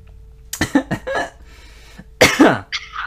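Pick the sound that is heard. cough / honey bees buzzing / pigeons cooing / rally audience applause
cough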